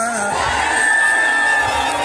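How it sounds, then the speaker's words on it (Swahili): A loud, dense crowd shouts and cheers without pause at a large public gathering, voices merging into a steady roar with a few higher whoops rising above it. "Piga kelele mshangilie mama."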